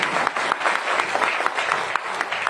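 Audience applause fills a stage event, a steady dense patter of many hands clapping close and loud with no voices over it.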